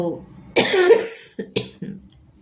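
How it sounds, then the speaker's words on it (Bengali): A woman coughs hard once, then follows with several shorter, weaker coughs and throat-clearing sounds, close and alone. "ভীষণ কাশি হচ্ছে"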